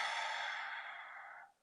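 A single long, steady exhale during a balance breath exercise, close to the ear and soft, tapering off quietly after about a second and a half with no voice over it.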